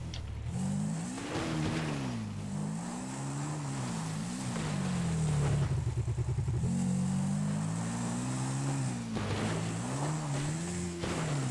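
A motocross motorcycle engine in GTA 5 Online revs continuously and loudly, its pitch rising and falling as the throttle opens and eases, with a brief rough stutter mid-run and no speech.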